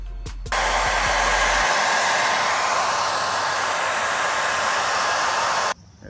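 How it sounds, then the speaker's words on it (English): A hair dryer heats the edges of a car shark fin antenna, blowing steadily at close range, a loud broadband whoosh that starts abruptly and cuts off near the end. "just get the hairdryer out again and just heat around the edges"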